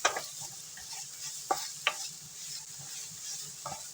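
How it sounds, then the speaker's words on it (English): Cubed burger stir-frying in a pan makes a close, continuous sizzle, broken by a handful of sharp spatula scrapes and clacks against the metal. "It's a very simple stir fry."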